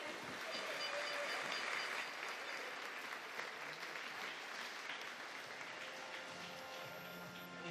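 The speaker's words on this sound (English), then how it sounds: "Let's have a huge round of applause for Shan Harkin" Steady, sustained crowd applause fills a large indoor pool hall at a national open swimming championship, honouring a swimmer after a race, with faint voices mixed into the broadband clapping throughout.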